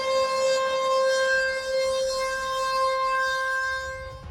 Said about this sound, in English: Right outside my clinic, there's a siren that goes off.